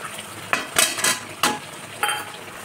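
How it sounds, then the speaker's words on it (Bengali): Fried potatoes tipped into cooked masala in a pan and stirred, giving a few scraping, clattering strokes of a spoon against the pan over a soft sizzle. "এবার দিয়ে দেবো ভেজে রাখা আলু।"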